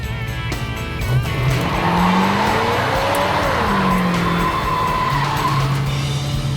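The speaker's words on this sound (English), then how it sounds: "That feels good, solid, good solid burnout." Tires squeal loudly in a sustained burnout in a Daytona while its engine roars, rising and wavering pitches over constant rough noise, close and intense throughout.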